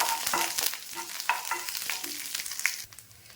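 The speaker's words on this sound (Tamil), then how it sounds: "கருவேப்பிலை இது மட்டும் போட்டு அப்படியே தாளிச்சுக்கலாம்." Curry leaves tempering in sesame oil on a dosa pan for beetroot chutney, a crackling sizzle with scattered pops and light stirring scrapes, close and moderately loud, no voices.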